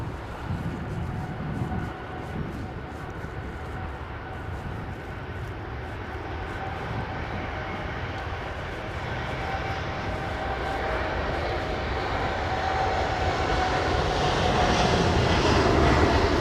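Saudi Arabian Airlines airliner at London Heathrow Airport, its jet engine roar steady and broadband, slowly building louder over the whole stretch as the aircraft draws nearer, with no voices.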